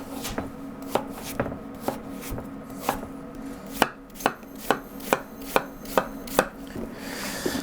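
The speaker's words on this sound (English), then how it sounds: "Something like those crown princes, these are really hard to cut." A big double-ended knife chops through a hard crown prince pumpkin in a steady series of sharp, close knocks on the board, about a dozen cuts with brief pauses, no talking.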